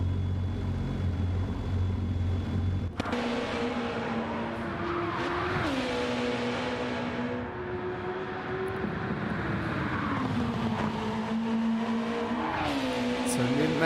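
A touring car in a racing video game pulls into the pits during a St Croix 1500 race; its engine drones steadily with rising and falling pitch, loud and continuous, with talk faintly underneath.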